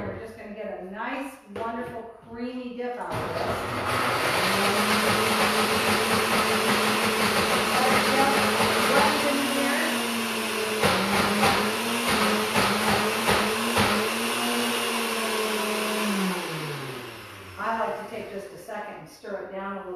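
A kitchen blender whirs loudly and steadily as it purees a creamy herb dip, running for about fourteen seconds with a pitch that shifts as it works. Talk comes before and after.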